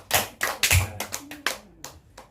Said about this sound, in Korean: 그럼 박수라도 쳐보자